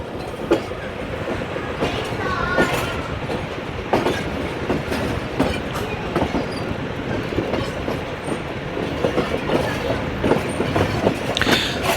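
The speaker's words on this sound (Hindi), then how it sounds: "लाहौर जंक्शन के रेलवे यार्ड से हम लोग बाहर निकल रहे हैं।" The Jaffar Express rolls out of the Lahore Junction railway yard, its wheels clattering in a steady clickety-clack over the tracks with occasional squeals, loud and close throughout.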